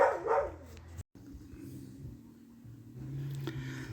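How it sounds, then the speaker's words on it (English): Two dogs bark and yip excitedly close by in a short volley, reacting to coyotes in the distance. The barking is loud and near, with a brief gap midway. "there's coyotes howling in the distance, and these two are just having a convulsion"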